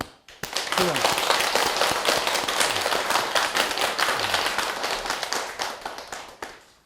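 An audience at a 2021 Buddha's Birthday Dharma service at a Buddhist temple claps together in sustained, loud applause that tapers off toward the end, with a voice speaking faintly over it at moments.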